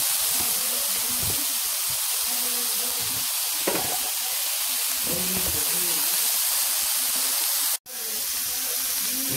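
Beef and chicken sizzling loudly in a hot pan, a steady hiss and crackle of stir frying with occasional clinks, close up.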